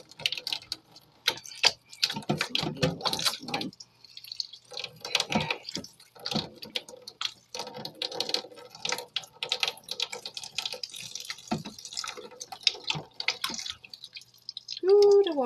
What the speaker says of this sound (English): We let it drip for a few seconds